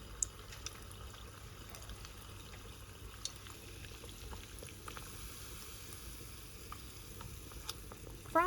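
Hash browns fry in hot oil with a low, steady crackle and scattered soft pops, fairly quiet and close, with no voices over it.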